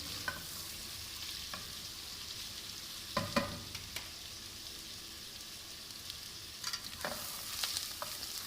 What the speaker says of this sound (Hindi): प्याज को हम ब्राउन करेंगे, लाइट गोल्डन ब्राउन करेंगे